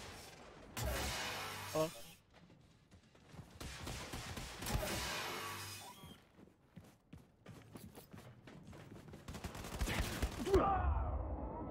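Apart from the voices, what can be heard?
gunfire in the video game Wolfenstein 2: The New Colossus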